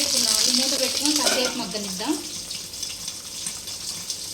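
Red chili and tomato chutney fries in a pan with a steady bright sizzle and occasional stirring scrapes, while a voice talks briefly over the first couple of seconds.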